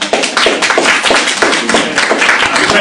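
Audience applause at the close of an invited talk, a steady wash of many hands clapping close by, sustained and fairly loud throughout.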